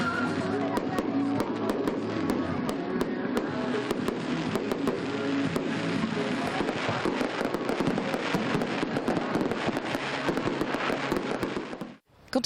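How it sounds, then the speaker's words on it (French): Fireworks display at a nighttime village festival, with dense, continuous crackling and sharp bangs bursting in rapid succession for about twelve seconds before stopping abruptly. "un feu d'artifice ayant attiré un large public issu du village et des communes des alentours"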